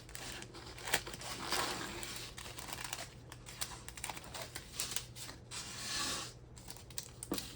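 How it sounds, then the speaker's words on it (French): Paper crinkles and crumples close up in irregular bursts of soft rustling and crackling, with small sharp snaps scattered through, against a faint background hum. "donc j'arrête avec le bruit de papier"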